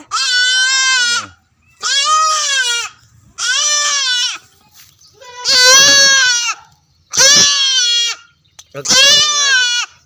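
Goats bleat loudly and close by in six long, wavering calls, each lasting about a second with short pauses between, from a group of fat goats on a farm.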